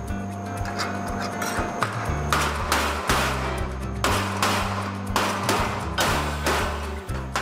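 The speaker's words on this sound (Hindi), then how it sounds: "हम इसको फ्लैट कर देंगे और फिर दूसरी साइड से मोड़ेंगे" A laser-welded aluminium piece is hammered flat and bent, giving a series of sharp, loud blows at an irregular pace over a steady tonal background hum.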